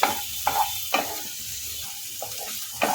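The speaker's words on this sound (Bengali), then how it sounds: "কর্নটা একদম ফেটে দেবো আবারও মিনিট খানেকে নাড়বো" Sweet corn upma is stirred in a pan, with short spoon scrapes and taps recurring every half second or so over a soft sizzle, close and with no speech.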